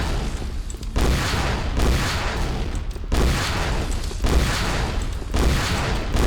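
Rapid, dense bursts of gunfire in Quake, booming shots repeating in clustered volleys at close range, loud and continuous with no pauses.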